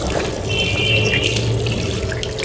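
Water runs steadily from a tap during a road trip in India, a continuous close rush and splash with no pauses and no voices.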